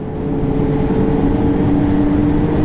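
Lynx XTerrain 900 Turbo R snowmobile engine droning steadily and loud throughout, a sustained mechanical hum with no breaks.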